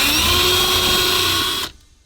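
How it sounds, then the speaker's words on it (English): A power drill whirs steadily at close range, drilling holes to bolt in a car console, high and buzzing, then cuts off abruptly near the end, leaving near silence. "So now I'm just going to mark out the holes, drill them out, bolt this thing in."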